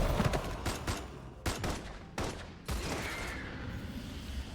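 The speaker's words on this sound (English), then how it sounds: "After the loud gunfire ends" Loud bursts of gunfire in a game battle, several sharp volleys and rapid shots spaced over a few seconds, each decaying into a lingering rumble.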